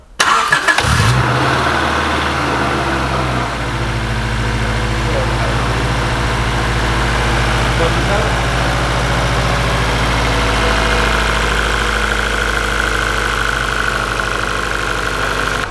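A car engine cranks and catches with a brief burst, then settles into a steady, rumbling idle that runs on loud and close. The engine has just been primed and is being watched for fuel leaks, and voices talk over it.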